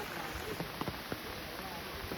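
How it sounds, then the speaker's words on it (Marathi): Steady rain pours down around flooded water where people are fishing in Konkan, making a dense continuous hiss with scattered drip impacts, near and even throughout. "जसा जसा पाऊस पडतोय"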